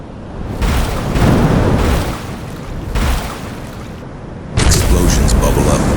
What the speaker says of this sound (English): dropping charges like thunder underwater